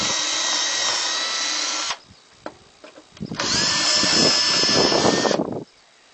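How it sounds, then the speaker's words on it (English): Two loud bursts of a power drill whining into wood while countersinking for screws, separated by a pause with a few clicks and knocks, the second burst grinding heavier. "So I'm going to drill, I'm going to countersink for my screws."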